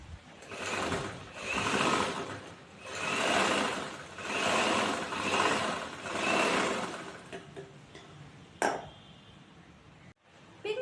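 A sewing machine stitches a chudithar neckline in four steady bursts of rapid whirring, each lasting about a second or more. Quiet pauses fall between the bursts, and a couple of sharp clicks come near the end.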